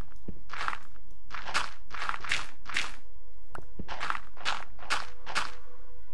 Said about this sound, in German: Ich höre hier immer noch Schritte auf Erde.